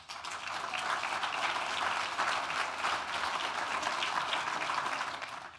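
Steady, moderately distant applause from diners at an awards dinner, even clapping sustained for several seconds before tapering off.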